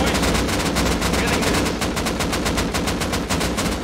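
Rapid automatic gunfire in the survival game Rust rattles out in dense, evenly spaced bursts, loud and close, keeping up without pause and with no talk over it.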